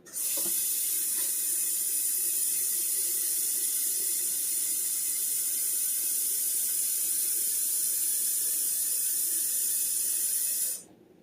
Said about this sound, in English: Now we want the water over top.